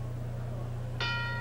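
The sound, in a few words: boxing bell starting round 1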